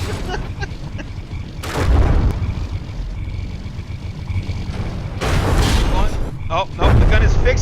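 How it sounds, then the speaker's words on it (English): Naval gunfire and shell hits in the From The Depths game as frigates Protostar and Jefferson fight, repeated heavy booms and explosion rumbles at irregular intervals, loud and close, with a commentator talking over them. "the rear gun of the Jefferson takes a direct hit"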